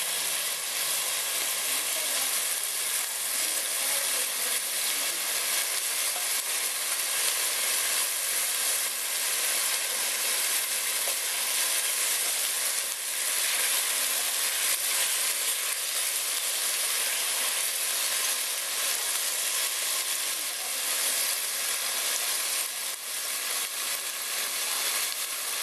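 Dominican salt cod stew base sautéing in a pan, a loud, steady close sizzle with hissing steam that runs without a break and stays even in volume.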